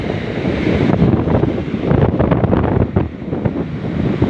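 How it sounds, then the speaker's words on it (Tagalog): Strong wind at sea buffets the microphone in a constant roar during stormy weather aboard a small boat, with surf and choppy water churning underneath. "lakas ang hangin"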